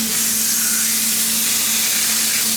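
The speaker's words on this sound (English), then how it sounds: "You hear that sizzle?" Steaks sizzle in a hot skillet with a dense, continuous hiss of searing, close and steady throughout, over a faint low hum.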